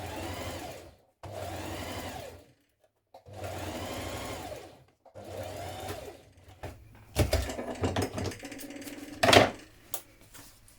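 A sewing machine stitches a zip onto fabric for a purse or pouch, running in several steady bursts separated by short stops, followed by clicks and rattles as the work is adjusted.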